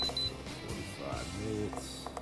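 Instant Pot pressure cooker control panel beeping as buttons are pressed while setting it to manual for pulled pork, with short electronic tones amid kitchen noise.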